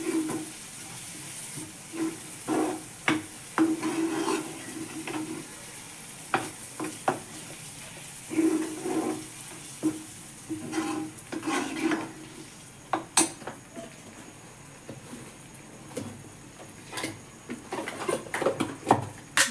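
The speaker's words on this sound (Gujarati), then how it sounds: "નાખી દઈએ હવે ટમેટા અને સરખી રીતે ચડવી નાખીએ" Chopped tomatoes hit a pan of cooked gravy for kaju gathiya shaak, sizzling steadily while a spoon stirs and scrapes against the pan in repeated strokes, close and moderately loud.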